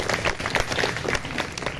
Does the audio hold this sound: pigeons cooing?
no